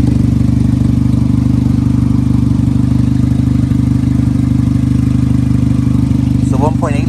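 A 2005 Pontiac Vibe's 1.8-liter four-cylinder engine idling up close, a loud, steady low hum that never changes, with a brief voice near the end.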